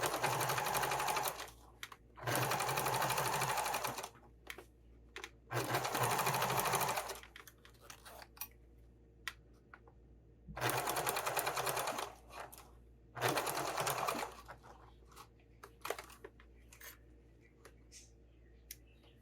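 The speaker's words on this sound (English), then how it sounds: "I'm going to top stitch next to the zipper," A sewing machine topstitches alongside the zipper of a sling bag, running in five or six steady bursts of rapid mechanical stitching, each a second or two long, with brief pauses and light handling noises between runs.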